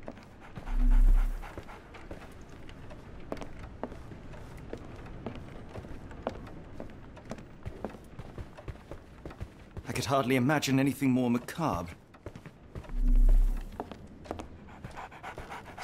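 A dog in the video game Sherlock Holmes The Awakened pants in a few short bursts, close by, while a person talks over it; a brief louder stretch of voice sits in the middle.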